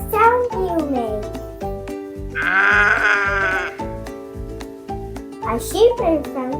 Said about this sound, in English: A sheep in French is a mouton.